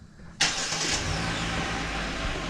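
A Mazda RX7 FD engine cranks and fires abruptly after a brief quiet moment, then settles into a steady, fairly loud idle close by.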